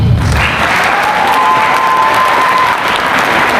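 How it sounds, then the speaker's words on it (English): Steady applause from an audience at a volleyball academy's end-of-season awards celebration, a dense continuous clapping that holds at full strength from start to finish with no voices over it. "One more round of applause."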